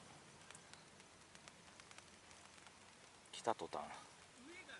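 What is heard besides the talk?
rain falling on a beach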